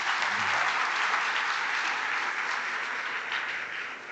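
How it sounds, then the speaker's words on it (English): An audience at a ceremonial event applauds Commander Sareen, a dense, steady round of clapping that fades slightly toward the end. "So a round of applause for Commander Sareen"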